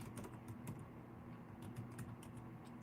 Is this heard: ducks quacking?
no